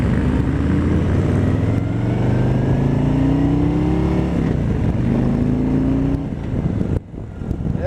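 A 2020 Harley-Davidson Road Glide Special with its 114-inch V-twin engine revs loud and close, a deep steady rumble that climbs in pitch through several throttle blips before easing off near the end.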